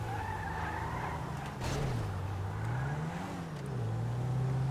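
A car in GTA V skids with a long, loud tire squeal over a steady engine drone, the pitch sliding down and back up before settling.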